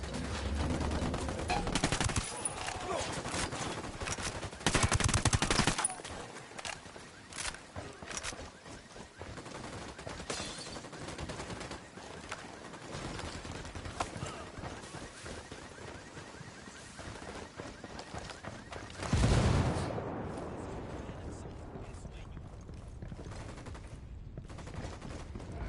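Sustained bursts of automatic gunfire from the video game Ghost Recon, loud and dense, with a heavy blast near the start and another around the two-thirds mark, continuing without a break.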